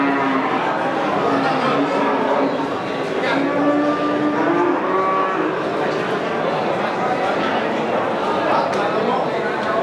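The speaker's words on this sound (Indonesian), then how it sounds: "Pasar Hewan Peternakan Banjarnegara." Cattle low repeatedly at a busy livestock market in Banjarnegara, their drawn-out moos rising over a dense crowd of talking voices.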